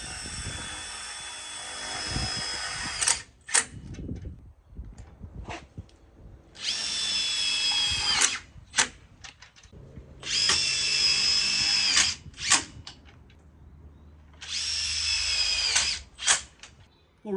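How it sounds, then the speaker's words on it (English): A power drill drives self-tapping screws into a Lokklatch Deluxe latch on double gates. Four close, loud whirring bursts of a few seconds each are separated by short pauses with clicks and handling knocks. "it's 4 screws, 2 at the front, 2 on the side, and in this case we don't need to pre-drill because these are self-tapping screws"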